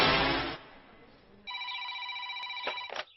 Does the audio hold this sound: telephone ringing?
yes